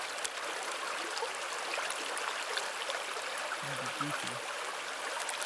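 Water bag being filled from a pond while backpacking: a steady broadband stream-like rush and trickle runs throughout, close and continuous, with a brief low murmur of voice near the end.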